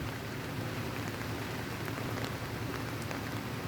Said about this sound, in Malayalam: നല്ല മഴയുണ്ട്, നല്ല ഇടിയുണ്ട്